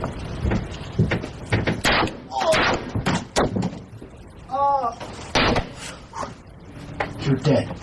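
Home security equipment picks up sharp, loud gunshot cracks, several spaced apart, amid thumps, bangs and voices. One section holds a wavering tonal cry.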